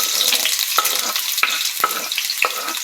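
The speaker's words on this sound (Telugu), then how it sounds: "ముందుగా నేను ఇక్కడ కొంచెం ఆయిల్ పెట్టి హీట్ చేసుకున్నాను. ఇందులో ఫస్ట్ ఒక ఆనియన్ కట్ చేసి వేసుకుంటున్నా." Chopped onion frying in hot oil for chicken fry piece biryani, a loud, close, steady sizzle punctuated by about five crisp spatula scrapes at regular intervals.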